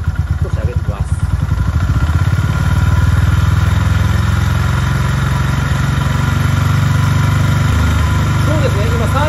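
A Honda GB350S motorcycle engine held at about 3000 rpm, a steady, loud mid-pitched drone with a dense, even pulse throughout, after a brief rougher start.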